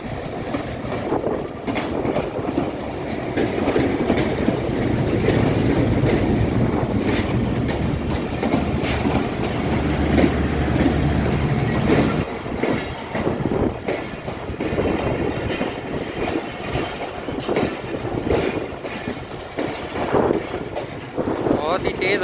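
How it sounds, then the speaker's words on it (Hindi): Hazara Express passes through Rawalpindi Railway Station hauled by an HBU20 locomotive in rain and strong wind, a continuous rumble with rhythmic wheel clatter and wind buffeting on the microphone, close and loud, with someone speaking over it. "12 डाउन हज़ारा एक्सप्रेस"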